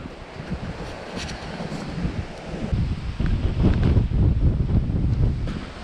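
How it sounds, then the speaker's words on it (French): Strong gusts of wind buffet the microphone at a mountain summit on Monte Arsenti, growing rougher and louder partway through, with no voices. "Il y a toujours autant de vent."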